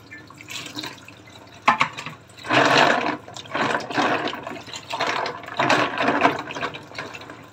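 Clams are rinsed under running water to clear out sand, with splashing and gushing from a tap into a sink in uneven bursts close by and no talk.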